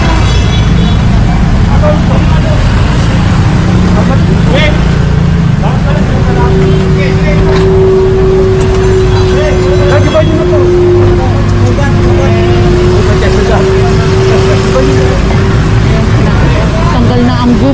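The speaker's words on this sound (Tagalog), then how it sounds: "puro mga sasakyan ang dumadaan" Cars stream past on a road with no sidewalk, a constant loud traffic roar with a sustained engine hum in the middle stretch, while voices murmur underneath.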